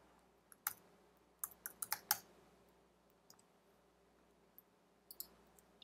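Computer keyboard typed on in short bursts of sharp, quiet key clicks, a quick cluster of several presses followed by a few scattered taps, close by with no talking.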